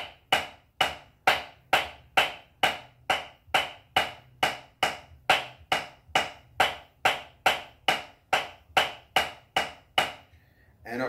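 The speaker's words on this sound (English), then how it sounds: "So the Shirley Murphy is a variation on the triple stroke roll." Shirley Murphy rudiment, a triple stroke roll variation, played slowly on a drum, about twenty-five evenly spaced, sharp close strokes with quick decay and no talking.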